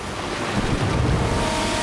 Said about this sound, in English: the King's ship in particular was buffeted by extreme winds and huge waves